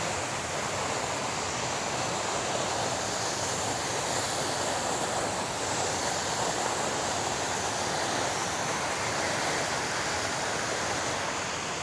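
An Otways waterfall in Victoria, Australia, thunders down over slippery rocks in a constant, dense roar of rushing water, loud and close with no pause.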